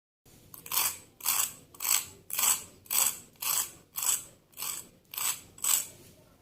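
Crispy fried Ramadan iftar snacks crunch in about ten steady, evenly spaced bites, each a sharp brittle burst close to the ear, with no talking.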